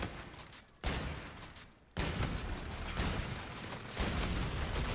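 Intervention sniper rifle shots in Modern Warfare 2, three sharp bursts spaced about a second apart over a continuous bed of in-game battle noise.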